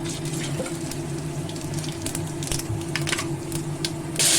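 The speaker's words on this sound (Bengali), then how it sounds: "তেলে আমি গোটা জিরে গরম মশলা আর তেজপাতা ফোড়নে দেব" Whole cumin, garam masala (cinnamon, cardamom, cloves) and bay leaf tempering in hot oil, giving a steady close sizzle with fine crackles that swells louder in the last moment, no voices.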